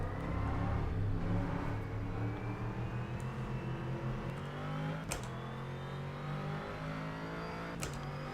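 Callaway Corvette C7 GT3-R racing engine in rFactor 2 at Bathurst, a steady loud engine drone rising in pitch under acceleration, broken by two sharp shift clicks, with no talking.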